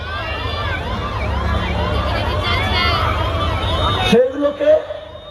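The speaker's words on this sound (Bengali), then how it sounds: "এই সাইরেন বাজছে অ্যাম্বুলেন্সে" A loud wailing ambulance siren sweeps up and down continuously amid crowd noise at a political rally in Malda, then cuts off abruptly, leaving voices and clatter.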